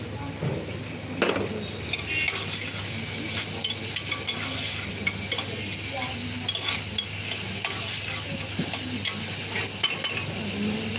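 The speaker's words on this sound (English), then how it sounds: "Cooking is just for sauteing without changing its color. Then I add leeks." Onions and leeks sautéing in a pan during a culinary workshop: a continuous close sizzle with repeated scraping and stirring strokes and a low steady hum underneath.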